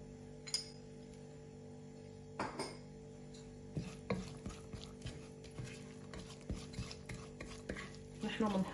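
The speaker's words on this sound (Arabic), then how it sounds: "حطي الزيت بالطنجرة، كمان البصل، بقليهن على الغاز" Onions fry in oil in a pot on a gas stove, giving a faint, quiet sizzle broken by scattered clinks and scraping knocks of stirring against the pot.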